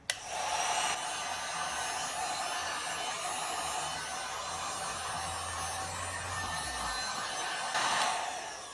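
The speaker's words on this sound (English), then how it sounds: "my heat gun magically appears and it shrinks all this heat shrink" A heat gun blows a steady, loud hot-air roar while shrinking heat-shrink tubing over the auxiliary wiring for a Jeep LED pod install. It runs continuously for several seconds, close by, with no talking.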